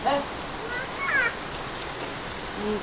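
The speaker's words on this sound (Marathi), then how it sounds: "एवढा पाऊस पडायला लागलाय बघा" Morning rain falls steadily outdoors, a dense, even patter that fills the whole clip, with brief faint vocal sounds and chirps over it.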